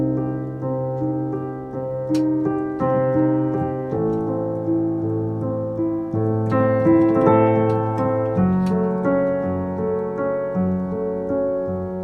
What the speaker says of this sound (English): we can start moving, breaking those chords up